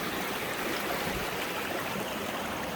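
Creek water flowing steadily beside a mossy rock, a dense continuous rush and babble, close and even throughout with no voices.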